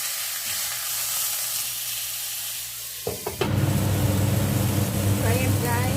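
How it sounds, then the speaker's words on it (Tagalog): Cornstarch-coated chicken and shrimp dropped into hot oil: a quiet hum, a few clatters, then a loud, close, sustained sizzle and bubbling crackle, with faint talk underneath. "Tsaka natin iprito."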